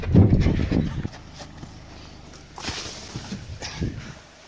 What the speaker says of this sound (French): Je vais arrêter ce cheval.